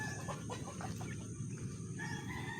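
Backyard chickens cluck and murmur in a flock after being fed, with a rooster's crow partway through, several birds close by over a steady background hum, no talk.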